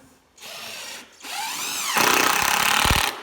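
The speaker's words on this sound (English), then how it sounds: "Last 2 big screws, screw them in" Power tool driving two large screws into the wooden top of a homemade speed sled, a whirring tool burst rising in pitch, then a louder steady buzzing run ending with short thumps as the screw seats, close and alone.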